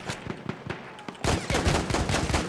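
Battlefield 1 gunfire from an M1911 pistol amid a busy battle: a run of sharp, loud shots, then a denser, louder stretch of overlapping blasts and explosions with no talk.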